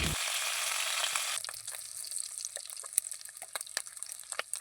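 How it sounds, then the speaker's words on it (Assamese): Soaked dried fish hits hot salted oil in a wok with a loud, hissing sizzle that drops after a second into a quieter, steady crackle with scattered pops. "মাছকেইজনী অলপ সময়ৰ বাবে ভাজি ল'ম।"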